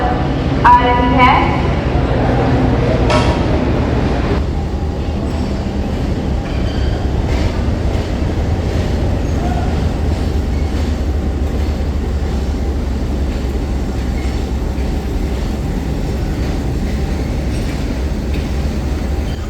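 The 42 Down Karakoram Express bound for Karachi rolls into platform 2 with a loud, sustained low rumble and rhythmic wheel clatter, while a voice speaks over it at the start.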